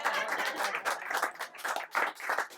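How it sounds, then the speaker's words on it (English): Audience applause from a crowd at a book talk, dense steady clapping close and loud throughout, with no speech over it. "you guys can keep applauding"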